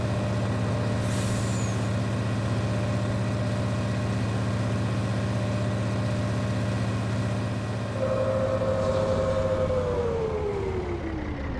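A Fiat 682 N4 truck engine in Farming Simulator 19 drones steadily at cruising speed near 70, a constant loud hum with a higher tone rising in and then sliding down toward the end.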